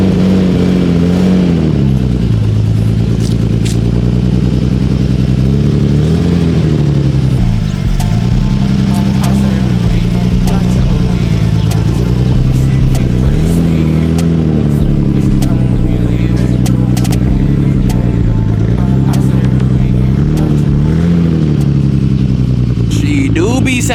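Nissan R32 Skyline fitted with a big single turbo, engine loud and close, revving repeatedly in rising and falling swells over a steady throaty idle for the whole stretch.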